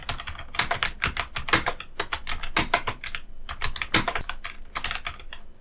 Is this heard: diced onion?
no